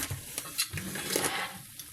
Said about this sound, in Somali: intaas aan ku darsanaynaa basal iyo barbarooni ku darsanaynaa